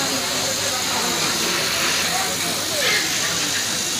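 A running refrigerator compressor draws oil in through its charging line while a finger covers the suction line, giving a steady, loud, airy hiss that holds evenly throughout.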